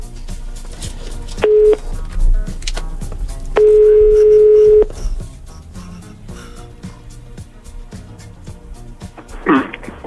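Telephone tones sound as a radio morning show calls a listener live: two steady beeping tones, one short and one held for over a second, then brief clicks, with faint background noise around them.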